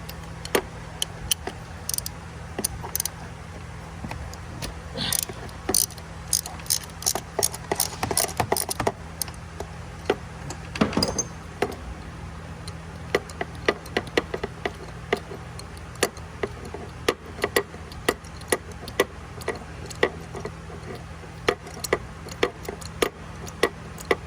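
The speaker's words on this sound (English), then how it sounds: "So I'm using this socket with flex on it. It's easier to remove the spark plug." A ratchet with a flex socket clicks in quick, irregular bursts while loosening spark plugs on a 2002 Lexus SC430, the crisp ticks close and clear over a low steady hum, with no talking.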